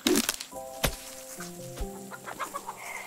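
Chickens in the Garden Paws farming game cluck in a quick, close run of short calls, with a few sharp flaps and thumps between them and no voices.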